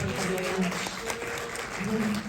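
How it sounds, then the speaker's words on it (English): Audience applause at a film festival Q&A session in Omaha, a steady wash of clapping with cheers and voices mixed in throughout. "let's give Jill one more round of applause"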